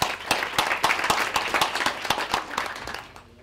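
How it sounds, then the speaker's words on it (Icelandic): A conference audience claps enthusiastically, many hands producing a lively, sustained patter that fades slightly toward the end. "Frábær, gefum gott klapp."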